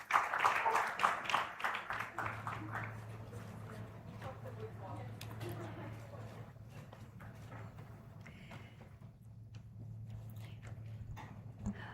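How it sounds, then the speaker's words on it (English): Conference audience applauds the dignitaries on the dais, a burst of close, loud clapping that fades to a thinner patter over a steady background hum. "A huge round of applause for all the dignitaries on the dais here."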